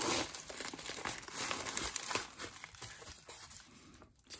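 Crinkly foam padding is crumpled and torn while sports card mail is unpacked, a continuous close rustle and crackle with a brief lull near the end and no talking.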